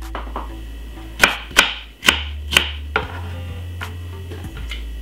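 A knife cuts okra on a board in a run of sharp chops, uneven in rhythm and close, with a low hum under them and no talk.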